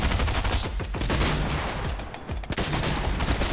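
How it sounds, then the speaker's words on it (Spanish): Rapid shotgun and gunfire bursts from a fighting video game, dense and loud throughout with overlapping blasts and no talk. "le falló a la escopeta"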